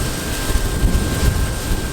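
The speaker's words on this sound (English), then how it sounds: "Sometimes some of these planters, they almost sound like a little jet engine running." A corn planter starting up in a field gives off a steady, high-pitched squealing whine like a small jet engine, with a rumbling low end and a few louder pulses, close by and without voices.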